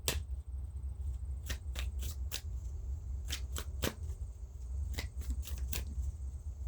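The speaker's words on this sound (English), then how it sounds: "Let's give them a good shuffle" Oracle cards are riffled and shuffled in a series of quick crisp bursts, close by and irregularly spaced, with no talking.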